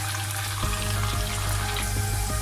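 Garlic and onion sizzle in hot oil in a pan for a simple mixed dal, a steady close frying hiss with a low hum beneath and a few soft stirring knocks.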